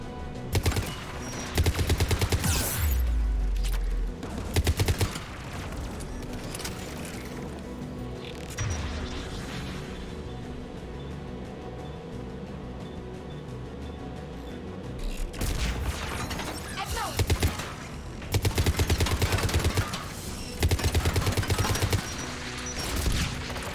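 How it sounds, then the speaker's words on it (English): Anti-aircraft guns in Mass Effect 3 fire in rapid bursts of loud booming shots, with heavy volleys at the start, around the middle and again near the end, over a steady rumbling battlefield background. "AA guns, dead ahead."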